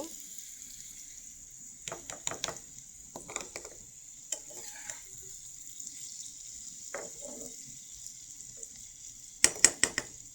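Onion and chili frying in a pan with bitter gourd, a soft steady sizzle running throughout, broken by several bursts of spoon scraping and stirring against the pan, the loudest clatter near the end.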